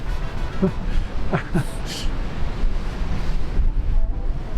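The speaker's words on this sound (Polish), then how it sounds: "Ale wiatr jest potężny" Strong coastal wind in Queensland buffets the microphone in a constant low roar, with surf rumbling underneath and brief voices cutting through.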